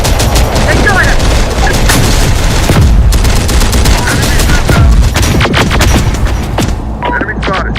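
Dense, loud battlefield gunfire from Terminator: Dark Fate – Defiance, with bursts of automatic fire and heavy booming impacts rolling continuously across the whole stretch, and faint radio-style voices mixed in.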